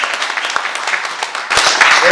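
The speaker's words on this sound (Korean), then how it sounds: "큰 박수 부탁드립니다" An audience applauds at a Korean political speech, a crowd of claps rising noticeably louder in the second half of the clip.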